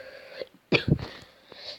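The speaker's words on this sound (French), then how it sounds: "Désolé si je tousse dans cette vidéo." A couple of short, harsh coughs from a slightly ill person close to the mic, separated by a brief pause, with faint background noise around them.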